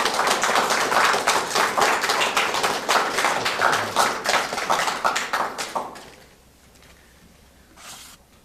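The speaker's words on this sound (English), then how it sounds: "So I'd like everyone to give her a warm round of applause and a welcome." Audience applause at a talk on student activism history in Tennessee, dense clapping from a crowd that builds for about six seconds, then fades to a few scattered claps and quiet room tone.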